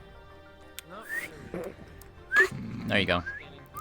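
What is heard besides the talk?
a person whistling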